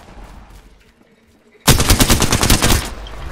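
A sustained burst of rapid automatic weapon fire in the shooter game Apex Legends, starting abruptly after a quiet stretch and running loud and close for over a second, with faint talk at the start.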